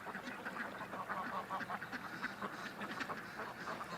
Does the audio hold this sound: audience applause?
no